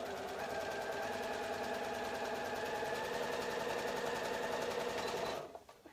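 A sewing machine runs steadily and close while stitching a cardigan seam, a continuous loud whirring hum for about five seconds before stopping abruptly, with no talking.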